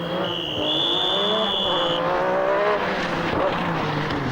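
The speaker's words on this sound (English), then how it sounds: "Ingvar Carlsson in the Group A Mazda is followed by Mikael Eriksson with an impressive showing in the Delta." A Group A rally car in the 1986 RAC Rally roars through a forest stage, its engine note climbing loud and close over crowd noise, with a high whine that cuts off midway.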